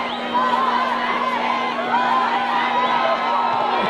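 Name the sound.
football crowd chanting block that kick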